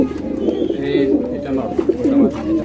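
Lahori pigeons, a pair of female and male in a loft, coo in low repeated throaty bursts, close and fairly loud, with a few soft background noises between calls.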